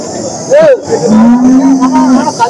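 At the Chintamani cattle market, where HF, Jersey and Holstein cows are sold, a short call comes first, then one loud, close, drawn-out moo follows, with no talking.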